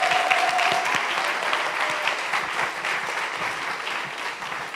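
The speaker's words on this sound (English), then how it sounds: "Yes, clap it for yourself." Steady applause from a Sunday church congregation, a full room of hands clapping continuously at an even level with no speech over it.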